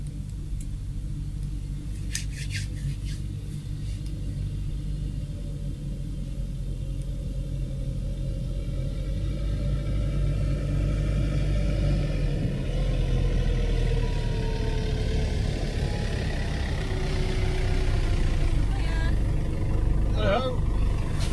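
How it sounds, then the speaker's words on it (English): A car engine approaches a castle gate campsite at night, a low steady rumble that slowly grows louder and closer over about twenty seconds, with voices talking over it. "I heard the sound of a car engine coming towards my direction"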